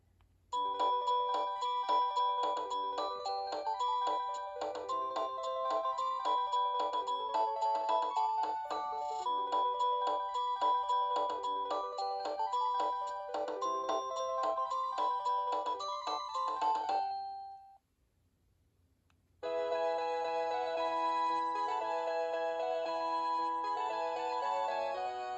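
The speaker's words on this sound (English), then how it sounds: "I was saying favorite ringtones as in across all phones" A Panasonic KX-TG6841 cordless phone plays melodic electronic ringtones, a loud, steady chiming tune that runs for about seventeen seconds, stops briefly, then a different ringtone melody begins.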